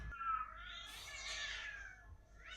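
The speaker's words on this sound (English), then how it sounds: "It's cats fighting." Cats fight in a short burst of rising, wavering yowls and a snarling caterwaul, faint and somewhat distant, with no voices over it.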